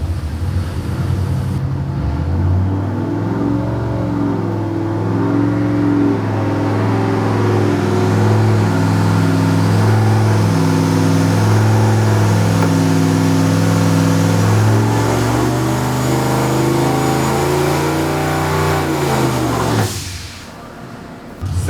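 A boosted car engine revs hard on a dynamometer, a loud, sustained roar climbing steadily in pitch for about twenty seconds before cutting off abruptly near the end.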